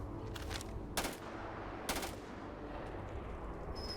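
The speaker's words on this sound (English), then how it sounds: "the weapon hardly says anything, but you can hear the tail into the distance" Gunfire from a weapon in the game Starfield, with a few thin, weak shots and sharp cracks trailing into a long distant tail, the whole sequence quiet and rumbling.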